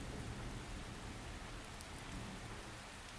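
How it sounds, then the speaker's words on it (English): Rain falls steadily outside, a soft, even hiss with no other sounds. "I heard nothing but the rain outside."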